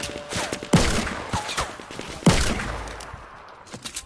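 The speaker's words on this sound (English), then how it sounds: "I'm getting shot from behind. I'm getting shot from in front as well." Gunfire in a multiplayer shooter video game, with two loud, sharp shots standing out over scattered fainter distant pops and background game noise.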